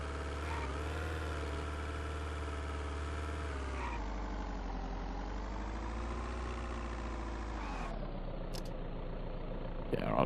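A vehicle engine runs steadily in a video game, a loud, close, continuous drone whose pitch rises and falls gently before dropping abruptly near the end.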